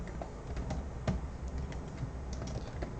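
Fingers type on a computer keyboard in quick, irregular soft clicks, faint and close, with a low background hum throughout.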